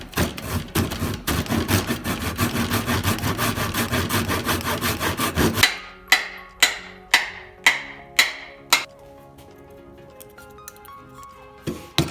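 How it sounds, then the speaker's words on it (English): Steady rapid sawing rasp for several seconds, then a series of separate short cutting bursts with pauses, close by; a small powered saw working through wood. "I'm just gonna finish it off with this scroll saw here"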